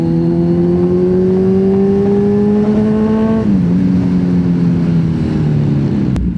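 A Kawasaki Z1000 R inline-four 1000cc motorcycle with a new exhaust holds a loud, steady engine drone, then the pitch dips partway through and settles lower, running alone with no talk.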